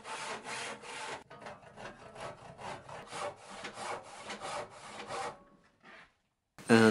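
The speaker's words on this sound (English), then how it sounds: "Then I sawed all the straight lines with regular hand saws" A regular hand saw cuts through thick wood, with close rhythmic rasping back-and-forth strokes that pause briefly before a final sharp sound.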